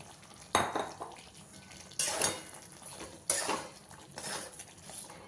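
A spoon stirs fried pointed gourd in a cooking pan, making several quiet scraping clatters spaced about a second apart.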